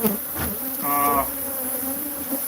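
A large swarm of tens of thousands of bees in Tombstone, Arizona buzzes loudly and steadily, a dense close drone that fills the whole stretch with no talk over it.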